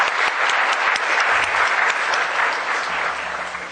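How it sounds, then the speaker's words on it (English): Audience applause at the end of a quiz round, a dense burst of clapping that stays loud and close, then thins slightly toward the end. "Give them a round of applause."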